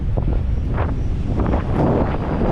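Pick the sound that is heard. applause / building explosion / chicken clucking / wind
wind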